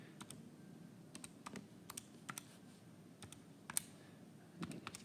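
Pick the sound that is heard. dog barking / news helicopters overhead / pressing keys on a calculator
pressing keys on a calculator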